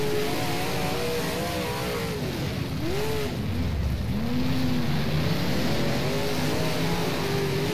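A Big Block Modified race car engine roars in rFactor on a dirt oval at Lernerville, a steady loud rasping drone that rises and falls in pitch as the car revs through gears and corners, with no talk.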